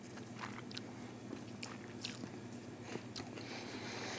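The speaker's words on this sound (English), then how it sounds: "It's like you bite into them" Crisp bites into freeze-dried peaches and plums, with short crunchy cracks scattered through a few seconds of close, quiet chewing and no talking.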